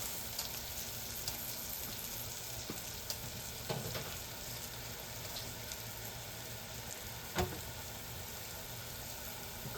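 Salmon patties frying in a pan give a steady, close sizzle through the whole stretch, with a few soft clinks and one sharp knock near the end, and no one talking.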